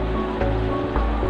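Tomato rasam boiling in a pot on the stove: a steady, close wash of bubbling and simmering that stays even throughout, with a couple of slightly louder surges.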